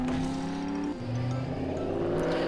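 A vehicle engine drones steadily while driving in 7 Days to Die, its pitch dipping briefly then rising again as it revs, close and continuous with no talk.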